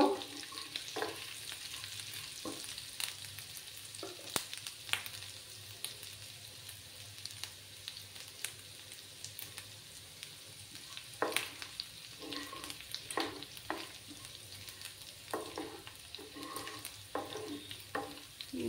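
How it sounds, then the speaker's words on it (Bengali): Ginger frying in a pan with green chillies for a vegetarian soybean chop, a quiet steady sizzle under repeated spoon scrapes and taps spread through the whole stretch, no speech. "আদাগুলো যখন একটু ভাজা ভাজা হয়ে যাবে তখন আমি বাকি আরও মশলাগুলো অ্যাড করে দেব"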